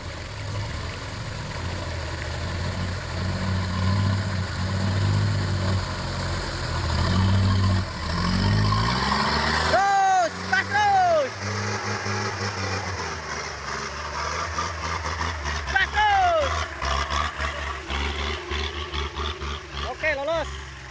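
A vehicle engine labors along a rocky landslide-damaged road in heavy traffic, idling and revving unevenly under frequent nearby talk from onlookers.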